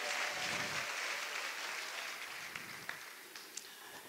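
A church congregation applauds in a soft, diffuse wash of clapping that tapers off, with a few sharper isolated claps near the end.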